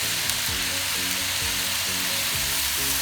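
Thick-cut bacon-wrapped pork chops caramelizing in a pan with butter and brown sugar give an even, close hiss of sizzling, laid over a repeating low musical pattern.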